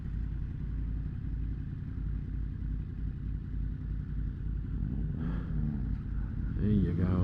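A 2023 Yamaha MT-10 with the AIS deleted, ridden over rough pavement, gives off a steady, low, rumbling engine note throughout, with brief revs and a few rising tones near the end.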